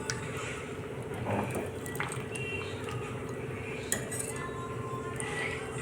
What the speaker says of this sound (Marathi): मी हे मस्त व्यवस्थित असं मिक्स करून घेते